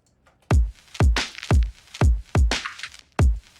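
A punchy kick drum alternates with a bright snare in a steady beat, six hits total, loud and dry with no other instruments.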